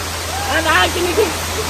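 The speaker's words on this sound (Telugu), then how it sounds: "ఇగో ఇట్లా పోతున్నాయి నీళ్ళు" Water rushing down at Srisailam dam, a steady broadband roar heard nearby with a person talking over it briefly.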